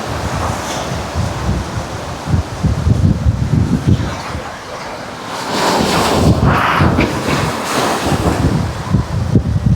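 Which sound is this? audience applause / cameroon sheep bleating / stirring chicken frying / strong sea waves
strong sea waves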